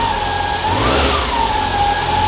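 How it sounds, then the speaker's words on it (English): A car engine is blipped on the throttle, its note swelling quickly upward then falling back to idle, close and clear with no talk over it. "So if you blip the throttle now"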